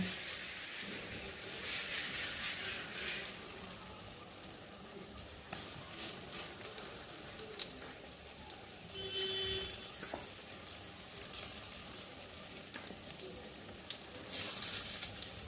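Steady crackling sizzle of chicken frying in a pan for chicken Manchurian, with occasional scrapes and light clinks from stirring; no voices.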